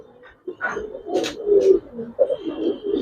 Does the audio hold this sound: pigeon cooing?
yes